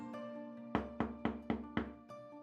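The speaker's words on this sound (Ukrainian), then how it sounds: "У двері сестер Ядвіги та Ірини Заппе несподівано постукали." Five firm knocks on a wooden door in quick, even succession, followed by a lighter sixth tap, close and clear.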